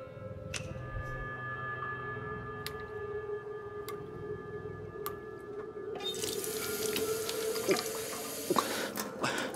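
Water runs from a tap in the video game As Dusk Falls, a trickle that grows into a fuller, louder rushing stream partway through, with faint drips and small clinks over a low background.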